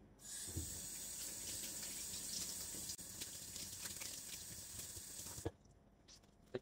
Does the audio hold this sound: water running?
yes